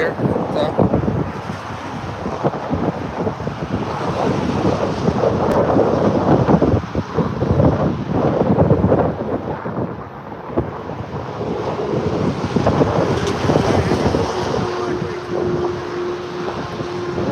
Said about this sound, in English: Yeah, it's a little windy here.